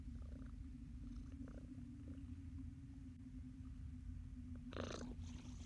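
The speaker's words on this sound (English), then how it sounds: "You hear the purrs." Close, steady purring from a house cat rubbing against a microphone, a continuous low rumbling drone with a brief rustling scrape near the end.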